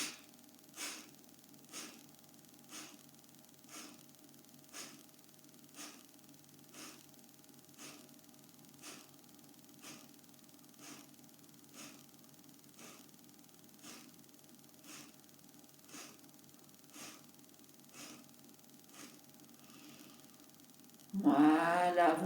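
Kapalabhati forceful yoga breathing, a steady series of sharp nasal exhalations at roughly one per second, close and fairly quiet, ending with a louder rush of breath.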